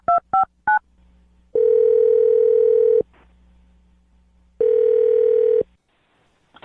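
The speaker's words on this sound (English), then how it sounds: "Now I'm going to dial Rick's phone number" Three quick touch-tone beeps sound as a phone number is dialed, followed by two long ringback tones with a pause between them. The tones are loud and close, with little else in the background.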